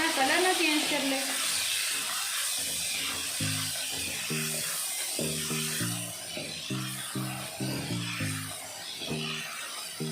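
Chicken pieces sizzle in a pan with golden fried garlic, a steady hissing fry that continues under a person talking nearby.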